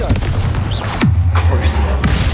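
A Confringo fire spell in Hogwarts Legacy bursts with a loud magical blast and a swooping whoosh, followed by a low rumbling boom that lingers for about a second amid other combat effects.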